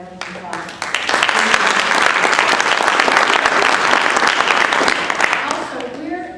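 A room full of people claps in a loud, steady round of applause at a public debate meeting, building quickly and holding dense until it tapers at the end, with voices mixed into the clapping.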